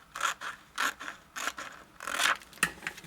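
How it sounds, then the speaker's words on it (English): Scissors snip through plastic repeatedly in quick, irregular crisp cuts at close range, with no talking. "So here come my trusted scissors again"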